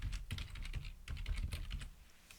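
Quick bursts of typing on a computer keyboard, soft clicky keystrokes in short rapid runs, close and alone.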